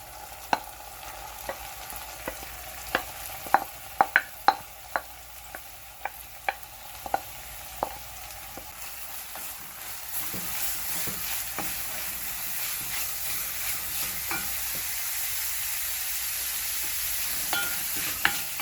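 Blackfish pieces frying in oil in a pan and being stirred, with a run of sharp spatula clacks and scrapes over a steady sizzle that thickens into a continuous frying hiss.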